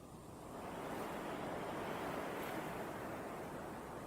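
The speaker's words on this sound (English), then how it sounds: "I do like the windy foliage and how it all reacts like that." Soft, steady whoosh of wind moving through foliage in the video game Betrayer, swelling in after a quiet start and holding at a gentle, even level.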